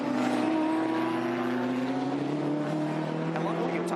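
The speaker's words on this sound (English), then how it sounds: "It's a really bizarre sound to this car." A car engine drones steadily with a rising, whining pitch, loud and continuous throughout, like a race car revving up.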